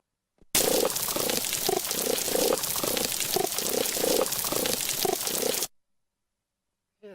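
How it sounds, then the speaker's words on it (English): An underwater recording of a coral reef full of animals, a dense crackling and popping hiss with a faint pulsing rhythm. It plays loud and continuous for about five seconds, then cuts off abruptly. "if I play a recording of a coral reef where you've got all of these animals making this noise"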